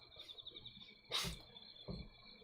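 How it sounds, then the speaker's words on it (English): Faint, steady insect chirping hums in the background of a quiet night scene in the visual novel The Fruit of Grisaia, broken by a couple of soft rustles. "I strained my ears, but I heard only the chirping of bugs."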